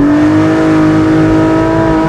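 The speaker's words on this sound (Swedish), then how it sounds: "Jag testar en launch nu." Porsche 911 Speedster launch-control start, the engine held high past 6000 rpm in a loud, sustained, steady howl with strong harmonic tones, close and unbroken.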